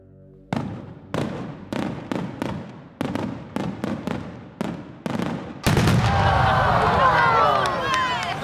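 A fireworks display sound effect opens with a string of sharp, evenly spaced bangs, then bursts into a dense, sustained crackle and fizz, loud and alone.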